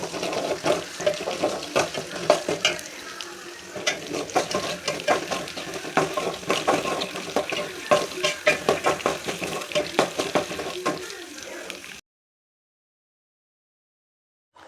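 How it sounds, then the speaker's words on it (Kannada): Curry leaves, green chillies and garlic frying in a pan, a steady close sizzle with spatula stirring scrapes for about twelve seconds before cutting to silence. "ಲಾಸ್ಟಲ್ಲಿ ಕರ್ಬೇವಿನ ಸೊಪ್ಪು ಹಾಕ್ಬಿಟ್ಟು ಫ್ರೈ ಮಾಡ್ತಾಯಿದ್ದೀನಿ"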